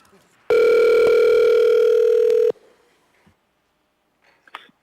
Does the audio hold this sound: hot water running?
no